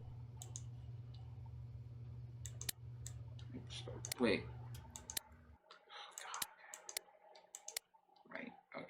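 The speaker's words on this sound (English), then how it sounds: "the clicking is in my brain" Repeated sharp mouse or keyboard clicks while playing a computer game, scattered and irregular, close and quiet, with a low hum fading out midway and soft speech nearby.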